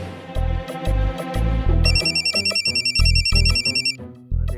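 A phone ringtone starts partway through, a bright repeating electronic melody layered over a pulsing music beat, then cuts off near the end.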